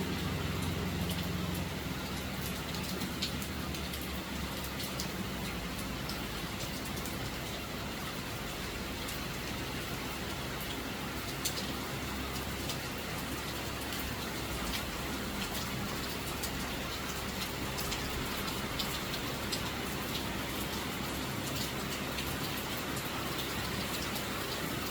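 Light rain falling steadily, an even hiss of drops across the whole stretch with possible passing traffic mixed into the wash.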